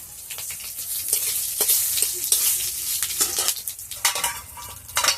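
Dried red chili and bay leaf frying in a little hot oil, with a bright crackling sizzle and a dense run of spatula scrapes and taps against the pan, close and continuous.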